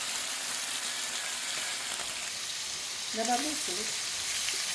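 Onion frying in a pan gives a steady, fairly quiet hiss and sizzle throughout, and someone speaks briefly over it near the end.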